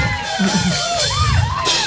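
A crowd cheers and whoops loudly after a gamelan performance at a Balinese Calonarang temple ceremony, with overlapping shouts and voices rising above the general roar.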